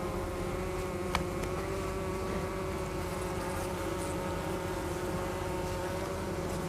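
Honey bees buzz steadily in an open hive infested with varroa mites, a dense continuous drone close by with no voices.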